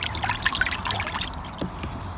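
Paper pulp being swished around in a bowl of water makes a trickling, sloshing liquid sound, close and moderately loud, with quick splashy movements fading toward the end.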